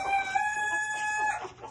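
Chickens clucking while a rooster crows a long, sustained, strongly tonal call up close, with softer clucks underneath and no talking.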